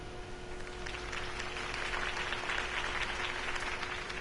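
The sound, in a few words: crowd applause in video game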